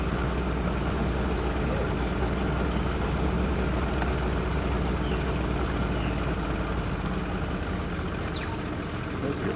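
Boat engine running on a river in the Peruvian Amazon, a steady low droning rumble that stays loud and constant throughout, with faint background voices.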